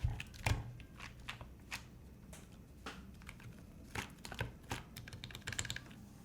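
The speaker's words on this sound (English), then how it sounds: "It's also making our spacebar sound really weird." Typing on a mechanical keyboard with a warped PCB, quiet steady clacking of many keystrokes in an irregular rhythm, close up, with no talk.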